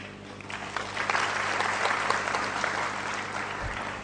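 An audience claps in a lecture hall in New Delhi, a dense, steady round of applause heard from a slight distance, swelling early and holding evenly throughout.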